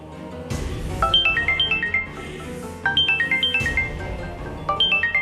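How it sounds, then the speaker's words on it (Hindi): A mobile phone ringtone plays a bright repeating melodic chime in bursts of quick descending notes, loud and close, three phrases over a soft background bed, with no talk. "रानी का फोन। रानी दीदी का फोन।"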